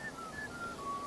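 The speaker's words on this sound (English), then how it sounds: "Yeah, whistling again." Whistling from hunters in the video game Manhunt 2, a thin wavering tone that steps between pitches over about a second, heard faintly against a steady ambient background with no talk.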